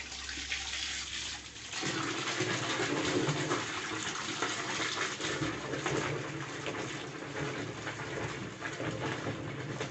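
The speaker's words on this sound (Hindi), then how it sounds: "हम इसमें फिर पानी डालते हैं।" Water splashes and gushes into a container of laundry detergent to work up foam, a steady rushing pour that swells after a brief softer start and continues evenly without speech.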